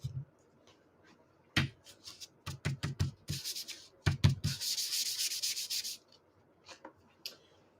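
An anti-static embossing pouch is rubbed over a sheet of vellum in short, dry scuffing strokes, close and quiet, with a longer continuous rub in the middle and a few light taps around it.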